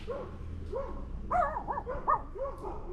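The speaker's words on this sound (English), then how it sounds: "Some neighbor somewhere on the road, they got their dog barking" A neighbour's dog barks somewhere along a rural road, a string of about six or seven sharp barks at an irregular pace, distant and fairly faint, heard on its own.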